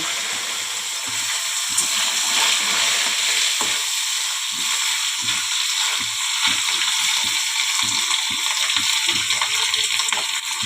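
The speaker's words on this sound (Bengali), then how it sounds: "যে ডালের পনিরগুলো ভেজে নেব" Paneer pieces for dal fry in hot oil with a steady, close hiss of sizzling, and irregular clinks and scrapes from stirring break through now and then. Nobody speaks.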